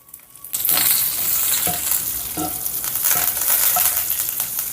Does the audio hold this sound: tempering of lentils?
yes